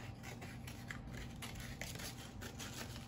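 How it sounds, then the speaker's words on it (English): Scissors snipping through a paper plate for a children's seahorse craft, a soft steady run of small cutting crunches, quiet and close, with no talking. "you're going to cut it out, or have mom help you cut it out"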